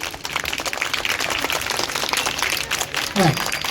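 An audience at a school event applauds the chief guest, giving steady, dense, moderately loud clapping with a voice speaking briefly near the end.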